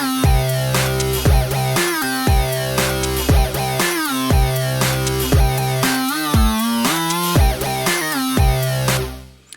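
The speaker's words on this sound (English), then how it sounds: "we're going to look at how to create a nice hard sync lead" Monster hard sync lead synthesizer playing a loud, bright, buzzy repeating riff with punchy pitch sweeps, alone for about nine seconds before cutting off.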